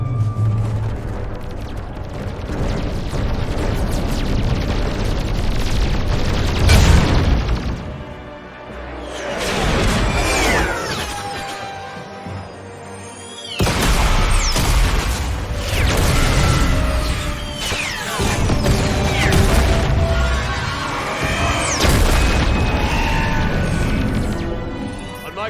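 Video game battle in Mass Effect 3 as forces open fire on command: loud, heavy booms and crashing impacts with metallic creaks, swelling in bursts, one near-silent dip midway, then resuming.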